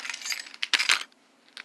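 Keys for a 1994 Cadillac hearse jangle and clink in a few quick metallic bursts, close and fairly bright, then a brief faint chink at the end.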